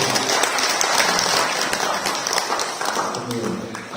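An audience at an evening discussion of a poetry anthology breaks into applause, dense and fairly loud clapping that holds for several seconds before slowly thinning out.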